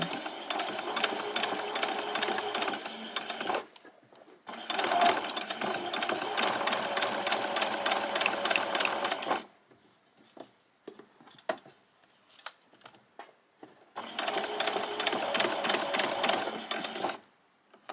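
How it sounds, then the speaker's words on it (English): A sewing machine stitching fabric for a summer top, running slowly in three long steady whirring runs separated by quiet gaps with small handling clicks. "If you're worried, you can do a few stitches and then turn your machine a little."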